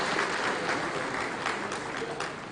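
A crowd at a Nigerian consulting engineering association gathering breaks into brief, dense applause for a recognized engineer, a continuous wash of clapping lasting under three seconds and thinning slightly at the close.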